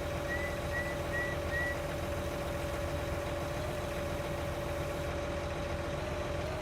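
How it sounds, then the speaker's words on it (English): A T9 combine engine runs quietly downhill, giving a steady, even low hum close by with a faint tonal whine and no talking. "this T9 feels like it's idling as we're going down the hill here"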